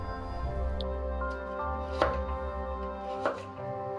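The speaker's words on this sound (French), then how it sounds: "Pour la carotte, la découper en bâtonnets et de 6 mm de long." A knife chops a carrot into sticks on a board: a few sparse, sharp cuts over a constant droning hum in the background.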